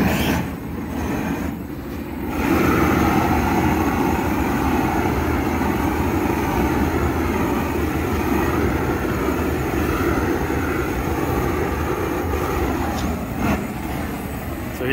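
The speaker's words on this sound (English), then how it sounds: "I got my propane and my torch. Just a little heat up." A propane torch heats an old faded chair, making a loud, steady roaring hiss close by that starts after a couple of seconds and continues without pause.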